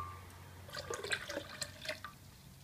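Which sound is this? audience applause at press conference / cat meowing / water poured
water poured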